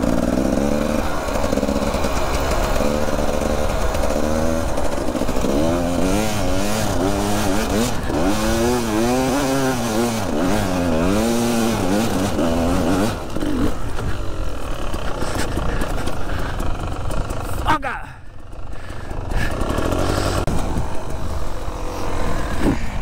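Dirt bikes, one slightly modified, climbing a steep hill: loud, close engines revving and rising and falling in pitch continuously, with people talking over them.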